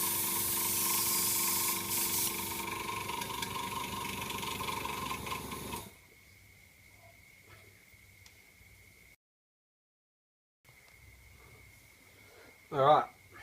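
An airbrush purges thinners through its nozzle during cleaning after model car painting. It gives a loud, steady hiss for about six seconds, then cuts off. Quieter hissing and short bursts follow, with a brief pause in between.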